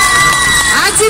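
Crowd on the right side of Cathedral Square at an outdoor public event, clapping and cheering: a dense, continuous roar of shouts and whoops with voices blending together. It holds steady and loud for the whole moment.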